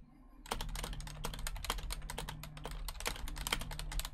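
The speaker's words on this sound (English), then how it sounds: "I go inside and I just hear furious typing." Rapid, furious typing on a computer keyboard, a dense stream of close clicking keystrokes, fairly quiet, with no talking.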